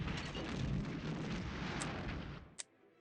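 Artillery barrage sound from the Panzer General II strategy video game: a dense, continuous rumbling roar of shelling that cuts off near the end, followed by a brief sharp pop.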